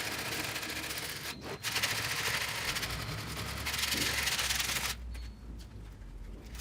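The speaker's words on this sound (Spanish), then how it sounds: "Lo paso a una lija grano 60 para poder prolijar bastante la moldura." A wooden molding is sanded by hand with 60-grit sandpaper, making continuous rasping, rubbing strokes with brief pauses between passes.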